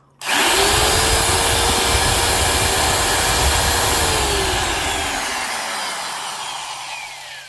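A Bosch laminate trim router, rated at 30,000 RPM, whines at a steady high pitch, starting abruptly and running loud and continuous before its tone slowly drops as it spins down.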